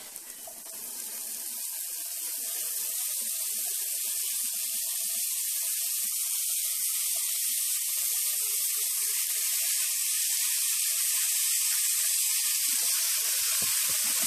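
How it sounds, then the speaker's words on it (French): Bacon lardons frying in a pan with butter and caramelized onions, a steady close crackling sizzle that rises within the first second and holds evenly to the end, with a few soft knocks near the close. "Maintenant, je vais y ajouter mes lardons."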